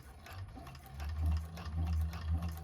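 A cylinder arm sewing machine stitches a bag with a low, pulsing run that swells and eases in short surges, fairly quiet and close.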